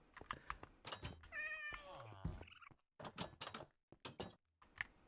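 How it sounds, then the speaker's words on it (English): Minecraft cat meowing in a drawn-out, wavering call amid rapid keyboard typing and clicking, close and moderately loud. "Is there a cat in here?"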